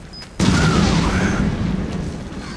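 A bomb explodes in Resident Evil 7, one sudden loud close blast followed by a long rumbling decay.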